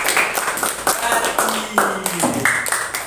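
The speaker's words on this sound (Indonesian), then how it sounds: "tepuk tangan buat Mbak Nanda yang mewakili kelompok" Students in a sixth-grade classroom clap for a classmate who presented for her group, a scattered patter of hands mixed with talking voices over a few seconds.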